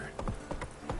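Hooves of the horse Roach galloping in The Witcher 3, a steady run of loud, close clip-clop beats in quick rhythm with a faint voice underneath.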